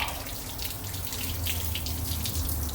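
Water draining and splashing from a water heater during an install, a continuous running, gurgling flow with a low hum underneath, close and steady throughout.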